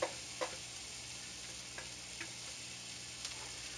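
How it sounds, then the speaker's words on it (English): Onion and celery sauté in melted butter in a pan, a steady, quiet sizzle with a few light clicks of stirring. "We get our onion sautéing in our pan with the butter, and I'm also going to add in my celery."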